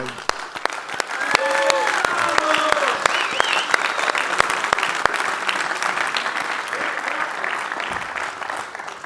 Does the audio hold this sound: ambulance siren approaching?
no